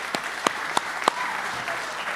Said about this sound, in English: How about a round of applause for our two co-hosts tonight